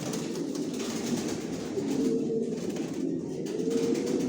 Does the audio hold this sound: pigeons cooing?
yes